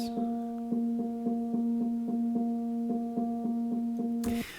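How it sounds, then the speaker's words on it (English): A piano recording run through a noisy analog synth filter: a sustained, buzzy filtered tone pulses in a steady repeating rhythm under a hiss of noise, then cuts off abruptly into a burst of static. "put a piano recording through the filter"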